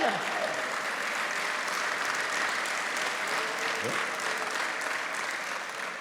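A large church congregation claps steadily and continuously, a dense wash of applause that holds at the same loudness throughout.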